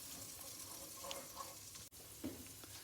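Ginger garlic paste fries in oil in a hexclad pan while a Nellore-style chicken fry is being cooked, a faint, steady sizzle with a small clink partway through and no talking.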